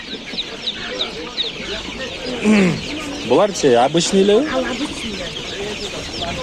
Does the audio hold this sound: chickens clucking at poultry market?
yes